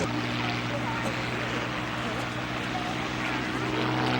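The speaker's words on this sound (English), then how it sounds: "kicking the rudder over to bring her into that stall turn and throwing the aircraft through the sky there" Vintage monoplane trainer with flaps flying a stall turn at a sunset air show, its propeller engine droning steadily at a distance under a constant wash of crowd and outdoor noise.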